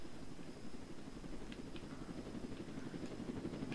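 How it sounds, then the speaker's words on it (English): A helicopter flies in the Roblox game Jailbreak, a steady, low rotor drone that holds evenly throughout with no voices over it. "Oh, helicopter!"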